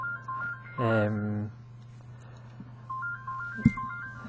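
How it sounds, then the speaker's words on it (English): A mobile phone rings with a short, loud melodic tone near the start, then quieter beeping tones follow over a steady hum, with a sharp knock near the end. "Excuse me, my phone's going off."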